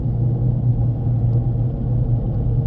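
A Toyota with semi-automatic manual transmission faults P0810 and P0900 driving held in second gear, heard as a steady low engine and road rumble from inside the car.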